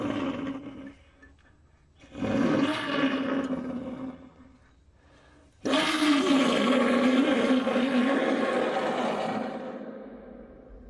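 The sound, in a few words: pututu conch shell trumpet imitating a feline roar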